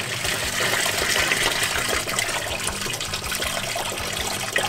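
Coolant spraying and trickling from a leaking fitting on a twin-turbo LSX Fox body engine bay: a steady hissing, splashing liquid noise, close and continuous for several seconds, with no talk.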